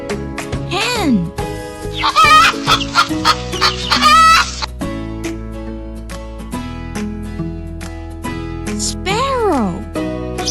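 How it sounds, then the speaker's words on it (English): A hen clucks in quick, choppy bursts near the start, close and clear, over light background music. "Hen."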